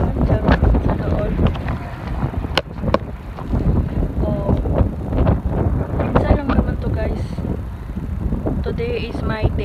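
Strong wind buffets the microphone outdoors in Salmiya, a constant loud rushing roar with a voice talking over it.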